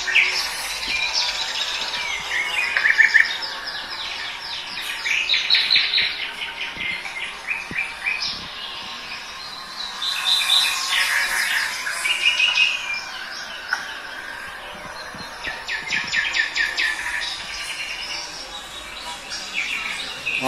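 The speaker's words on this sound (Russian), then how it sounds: "Птички поют, друзья." Birds chirp and trill in repeated bursts at moderate distance near a seaside beach in Yalta, Crimea, the calls coming and going over a quiet background.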